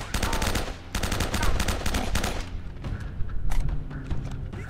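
Gunfire in the video game Uncharted: dense automatic bursts crackle in quick succession, then give way to scattered single shots and thuds amid the noise of battle.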